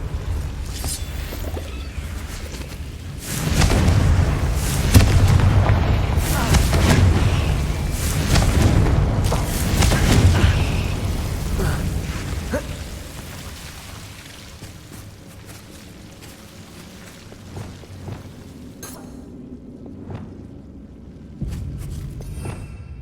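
A Confringo fire spell blasts in Hogwarts Legacy, heavy booming explosions rolling over several seconds and then fading to a low rumble, with a smaller burst near the end.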